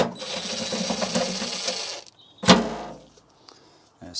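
A ratchet on a long extension works loose the fender bolts on a BMW E65/E66 7 Series: a rapid close clicking ratchet run for about two seconds, then a sharp metallic clank and a few faint ticks.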